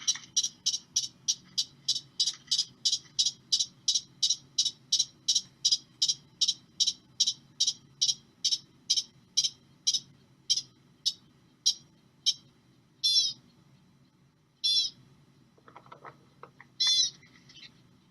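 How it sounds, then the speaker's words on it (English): A pika long call repeats as a series of sharp, high, squeaky notes, quick and even at first and then slowing and spreading out, the last few notes drawn out. It sounds clear against a faint outdoor hum. "So I want to play a pika long call one more time for you, just so that you can really hear the difference."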